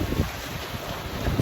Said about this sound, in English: we're sailing back home with like 20 knots of wind now